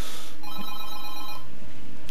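A telephone bell ringing in the Planet Coaster video game, a loud close electronic ring with steady bright tones lasting about a second, alone without talk.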